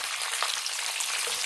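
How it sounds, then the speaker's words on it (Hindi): Vegetables for chicken Manchurian fry lightly in a pan, giving a steady, close sizzling hiss that holds evenly throughout with no talking. "फिर इसके अंदर हम बाकी वेजिटेबल्स ऐड कर देंगे, उनको लाइट सा फ्राई करेंगे।"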